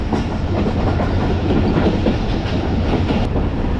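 The Allama Iqbal Express passenger train rumbles loud and close at a railway station, its wheels clattering rhythmically over the rails in a steady, continuous roar with no talking.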